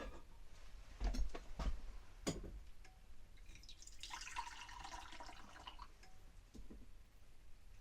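Warm water trickles and splashes from a tap into a container, about one and a half cups, with a few sharp clinks early on, continuous and close.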